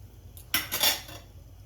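A spoon clinks against a metal pot while milk is stirred for rasmalai in a home kitchen, a short cluster of bright scraping taps, close and fairly quiet, with no talk.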